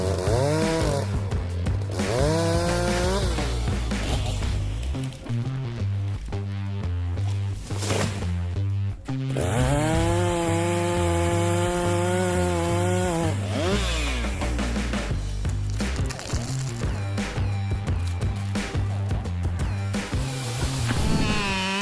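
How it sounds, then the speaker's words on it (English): A chainsaw cuts through a tree during rope-secured felling, its loud high-pitched engine whine holding steady then dropping and rising again as it bites into the wood, continuous and close. "Seeing the chainsaw operate with power and precision"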